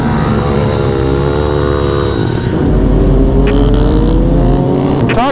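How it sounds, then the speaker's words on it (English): Motorcycles ride down Main Street on a Florida Friday night, including Harleys, Groms, dirt bikes, sport bikes, supermotos and a Yamaha FZ. Loud, steady engine drone with rising and falling revs as machines pass close by. "Talk about a variety of bikes out here too. Harleys, brand new Groms, old Groms, dirt bikes, sport bikes, supermotos, ATVs, you name it, it's out here"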